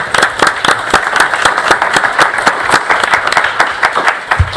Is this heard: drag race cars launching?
no